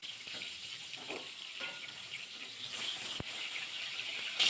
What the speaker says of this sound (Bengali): সেই তেলের মধ্যে বাকি পটলগুলো ভাজা করে নেব।